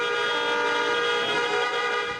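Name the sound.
car horns honking in a protest motorcade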